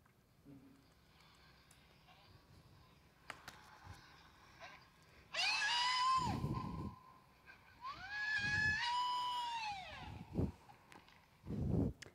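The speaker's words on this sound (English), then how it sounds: "It's called a sapucay. It's a type of thing that people scream while they are dancing." A sapucay, the traditional Argentine scream let out while dancing, rises as loud, long, wavering shouts in bursts, with quieter background noise between them.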